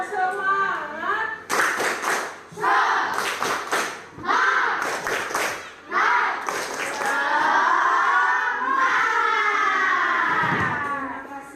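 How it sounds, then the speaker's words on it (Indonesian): A primary school class doing tepuk semangat, a rhythmic spirit clap, with bursts of patterned clapping from the group alternating with children chanting and a teacher speaking. "kita tepuk semangat lagi ya. Tepuk semangat."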